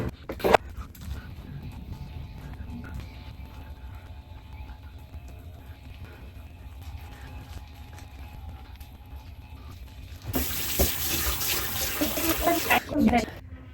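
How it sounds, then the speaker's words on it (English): Water runs from a tap at a bathroom sink while a face is washed, a low steady trickle with small splashes that swells into a louder gushing flow near the end; brief talk is heard at the start. "So I'm gonna wash my face first."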